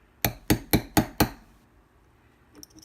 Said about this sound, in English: So all I'm doing is hammering it in there.